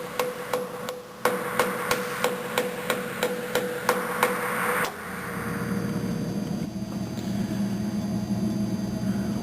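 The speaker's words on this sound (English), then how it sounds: "So I've got my hammer here. I go straight up, position the weight" A hammer taps a wheel balancing weight onto a tire rim, about a dozen sharp, evenly spaced metallic knocks close up, followed by a steady machine hum from the balancer.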